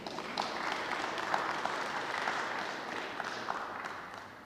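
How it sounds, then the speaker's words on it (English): An audience at an NGO gathering applauds to welcome a speaker forward; the clapping is soft and distant, a diffuse wash that thins toward the end. "Please give her a big hand or a round of applause."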